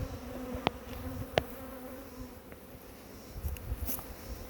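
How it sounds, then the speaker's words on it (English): Honey bees swarm and buzz around an open beehive with exposed honeycomb, a steady droning hum with a few sharp clicks and knocks of beekeeping gear close by. "the fucking bees found the honey"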